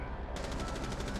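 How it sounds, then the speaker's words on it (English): Rapid automatic gunfire from Rainbow Six Siege rattles in a quick, evenly spaced burst, loud and close, starting just after a brief moment of duller noise. "I didn't want to shoot my teammate"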